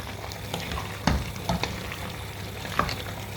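Bitter gourd (ampalaya) sizzles steadily as it fries in a cooking pot, with several sharp scrapes and clacks from stirring scattered over the hiss, close and fairly loud with no voices.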